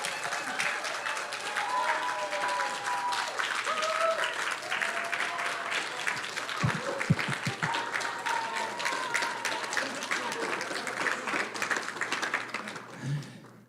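An audience at an annual meeting applauds in a moderate, sustained round of clapping, fairly distant, with faint crowd murmur and a few thumps near the end.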